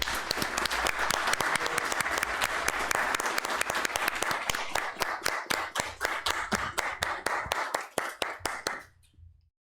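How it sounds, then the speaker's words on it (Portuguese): Sustained applause from the floor of a municipal city council session in Canoinhas, dense clapping throughout that thins into a few scattered claps and stops near the end. "quero pedir uma salva de palmas para todos os colaboradores do Hospital Santa Cruz de Canoinhas."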